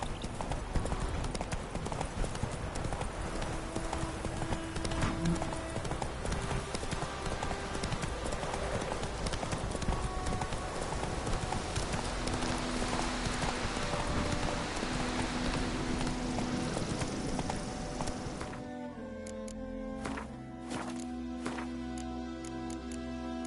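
Horse hooves clip-clop at a steady trotting rhythm in The Witcher 3 video game, continuous under a background game score, then slowing and thinning out toward the end.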